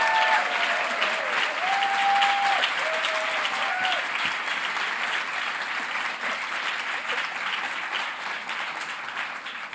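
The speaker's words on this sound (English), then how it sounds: "A round of applause for Governor-elect Katie Hobbs." A crowd at a political celebration breaks into loud, sustained applause with cheering and whoops, a dense wall of clapping that continues steadily throughout.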